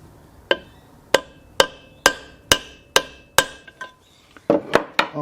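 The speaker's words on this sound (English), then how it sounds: "we'll see whether a tap with a hammer will shift it" Hammer taps on a Briggs & Stratton engine part during an air compressor conversion: about ten sharp metallic knocks at a steady pace, close and loud, with a quicker cluster of hits near the end.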